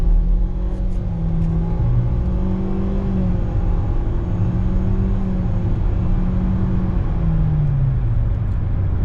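A 2018 Nissan Sentra SR Turbo Midnight Edition accelerating, heard from inside the cabin as a steady low engine drone that climbs and falls in pitch through the gears, with no talking.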